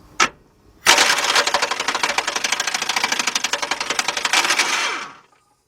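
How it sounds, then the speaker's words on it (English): A pneumatic impact gun hammers on a bolt during a partial engine rebuild of a 2003 Jeep Liberty Sport 3.7, a short burst then about four seconds of rapid, loud rattling blows ending abruptly, close by. "I'm gonna hit the gun, and hopefully that bolt will turn, the ratchet will catch it"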